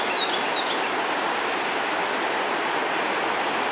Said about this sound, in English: And this is the Patapsco River.